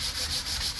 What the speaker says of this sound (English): So I'm just going to give a light sanding all around it